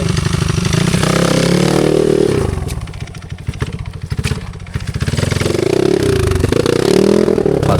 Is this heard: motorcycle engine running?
yes